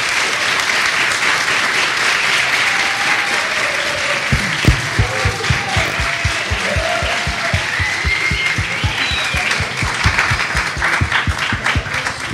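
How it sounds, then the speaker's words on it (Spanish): An audience at a forum on reporting from war breaks into sustained applause, dense clapping filling the room, with a few sharper, rhythmic claps standing out near the front. "Un aplauso."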